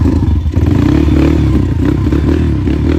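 A Kayo TT140 dirt bike engine starts and settles into a loud, close, steady idle putter with some mechanical clatter, out in cold outdoor air.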